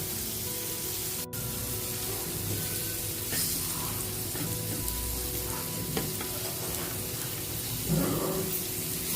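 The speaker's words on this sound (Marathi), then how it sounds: "आता मसाला लावून आपण फ्राय करतो" Spiced pomfret (halwa) fish fries in a pan, a steady close crackling sizzle with occasional stirring or shifting noises and no voices.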